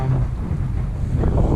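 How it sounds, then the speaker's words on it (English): Strong Central Oregon wind buffets a kayak on the water. A dense, low rumble of wind noise hits the microphone throughout, with rough gusty texture and no speech. "Central Oregon's known for its wind."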